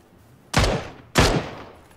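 Two heavy gunshot blasts from a video game firefight, each a loud booming crack with a long decaying tail, roughly half a second apart and close up.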